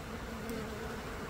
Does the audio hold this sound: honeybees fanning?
yes